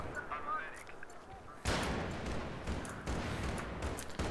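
Game gunfire in Battlefield 3 erupts suddenly after a quieter opening, a dense, loud stretch of shots and blasts that continues with repeated sharp bursts and booms to the end.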